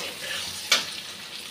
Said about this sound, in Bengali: মশলাটা ভালোভাবে ভাজা হয়ে গেছে